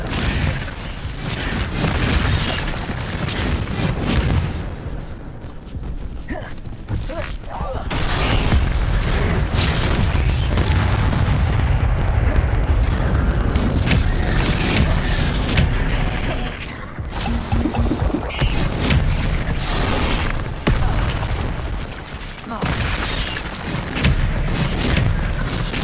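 Spell combat in the video game Hogwarts Legacy, including Expelliarmus casts, with continuous dense magical blasts, crashes and booming impacts over a busy game soundscape and no talking.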